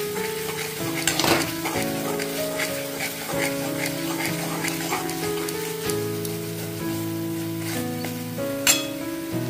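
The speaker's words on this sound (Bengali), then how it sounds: "এখন আমি এটা 2 মিনিটের মতো ভালোভাবে নাড়াচাড়া করে নিচ্ছি।" Veg Manchurian mixture stirred while frying in a pan, a loud continuous sizzle with spatula scrapes and light clinks repeating steadily throughout, close and prominent.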